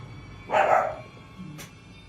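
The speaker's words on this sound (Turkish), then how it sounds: "Benim köpek avladı arkadaşlar." A dog in the horror video game Infested lets out one loud, close bark burst, followed by a fainter short sound and a quiet, murky game ambience.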